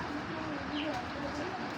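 A male Tota Bagha pigeon coos in low, rolling calls against a dense, hissy background, fairly close and steady.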